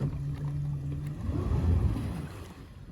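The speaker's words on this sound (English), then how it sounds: "The Maxum 2000 SR3 runs on the water." A Maxum 2000 SR3 motorboat with a 5-litre MPI engine of 260 horsepower and an Alpha 1 stern drive runs on the water, giving a steady low engine drone mixed with water wash that swells slightly midway.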